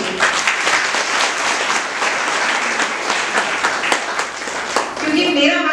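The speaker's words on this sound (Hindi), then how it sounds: "आप लोग अपने लिए ही ताली बजा लीजिए, इतनी जोर से कि हॉल गूंज जाना चाहिए।" Loud, dense clapping from an audience of women filling a hall at an awareness-fortnight event, continuous and echoing, with a voice starting up as it fades at the end.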